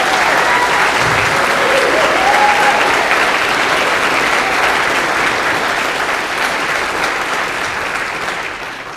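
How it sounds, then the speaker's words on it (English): Loud, sustained round of applause for students at an elementary school ribbon cutting, steady dense clapping from a nearby crowd that gradually fades toward the end. "I need to hear another round of applause for these amazing students."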